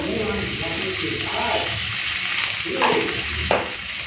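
Rui fish and eggplant fry in hot mustard oil in a pan, giving a loud continuous sizzle with stirring scrapes, and a voice talks over it.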